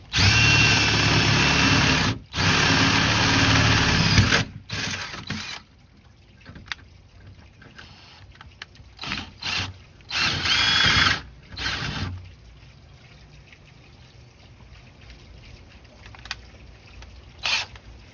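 A power drill whirs in several bursts while cutting a peephole through a door, long at first then shorter stop-start runs, with quiet pauses and handling noises between.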